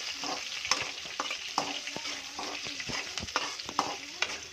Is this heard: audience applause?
no